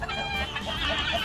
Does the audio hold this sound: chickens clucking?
yes